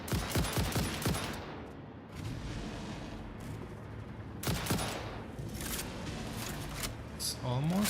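Gunfire aimed at creatures in Satisfactory: loud rapid volleys open the clip and return in another burst midway, with a constant rumbling game background and a voice talking throughout.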